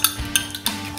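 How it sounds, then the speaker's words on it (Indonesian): Beating eggs in a bowl for fried rice, a few quick, sharp clinks of utensil against the bowl at an uneven rhythm, close and alone. "kocok telurnya dulu"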